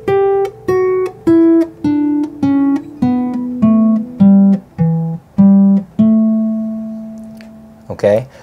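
Single guitar notes climb and then descend through a Mixolydian scale across two octaves, played in an even, steady rhythm up close, ending on a sustained note and a short strum.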